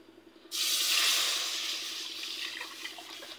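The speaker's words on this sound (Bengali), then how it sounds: "আর এর ভেতরেই দুধটা ঢেলে দিচ্ছি" Milk pours into a pot of freshly made milk ghee in a sudden, steady rushing splash that starts abruptly and slowly softens as it continues, close by with no voices.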